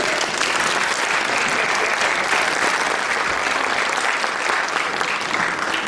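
An audience at an academic lecture gives the doctor a strong round of applause, dense and loud clapping sustained evenly for about six seconds with no talk over it.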